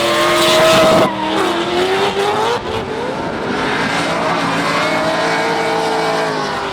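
Drift cars at a D1NZ championship round at Hampton Downs, a Red Bull RX-7 and a Tectaloy S14, skid with loud, continuous tyre squeal and revving engines, a sharp burst then sustained screeching wail close by.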